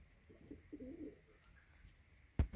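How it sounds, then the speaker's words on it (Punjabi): Pigeons strolling about their loft give a few soft, low cooing calls close by, followed by a brief sharp knock near the end against a quiet background. "ਦੇ ਲੋ ਜੀ ਆਪਣੇ ਸਾਰੇ ਕਬੂਤਰ ਹਨ ਘੁੰਮਦੇ ਪਏ ਮਜੇ ਨਾਲ"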